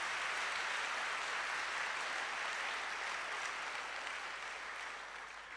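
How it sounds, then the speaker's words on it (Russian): Audience applauding in a church service, a dense, steady wash of clapping from a large congregation that holds evenly and fades slightly toward the end, with no speech over it. "Давайте воздадим Господу аплодисменты."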